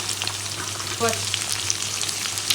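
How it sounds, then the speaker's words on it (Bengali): Potatoes with jackfruit and soaked chana dal fry together in a pan for a Bengali kathal curry, giving a steady close-up sizzle with one brief squeaky scrape of stirring partway through. "সব এখন একসাথে ভেজে নিচ্ছি"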